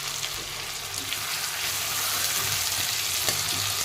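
Meat fries in oil that has separated out in the pan, giving a dense, continuous sizzle and crackle, close and fairly loud, with faint stirring scrapes underneath.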